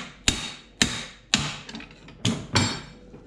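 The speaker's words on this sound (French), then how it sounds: "Le marteau." Hammer blows ring out during car repair, five sharp metallic strikes at uneven intervals, close and loud, each decaying quickly.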